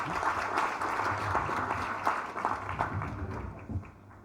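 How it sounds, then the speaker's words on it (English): Audience applause at a Ugandan electricity company's annual general meeting: steady, dense clapping from a large crowd that gradually tapers off near the end. "Probably give him another round of applause"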